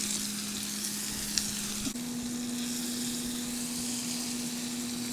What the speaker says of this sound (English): All right, let's go ahead and get that sear.